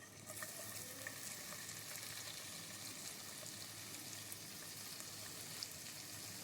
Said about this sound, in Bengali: নুন হলুদ দিয়ে মাখিয়ে চিংড়িটা ভেজে নিচ্ছি